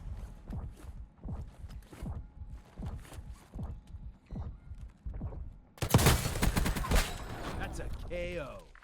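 Rapid bursts of video game gunfire from a KAR weapon erupt loudly after several seconds of rhythmic thumping footsteps, with a dense volley followed by trailing echoes.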